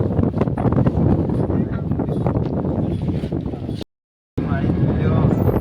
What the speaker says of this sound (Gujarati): એવો ઠંડો ઠંડો વાયરો આવે ને